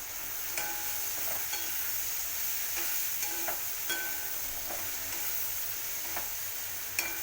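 Chillies fry steadily in a pan for chilli pickle while a utensil stirs them, giving a constant soft sizzle broken by several light scraping taps.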